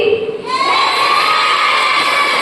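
A large crowd of young nursing college students shouts and cheers together at a freshers welcome day, loud and sustained, swelling sharply after a brief quieter start.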